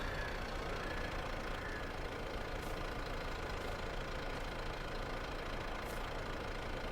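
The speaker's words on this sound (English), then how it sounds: "Such a fantastic little tractor, it really is." A small tractor engine idles steadily in a farming video game, a constant low rumble that holds evenly throughout with no talking.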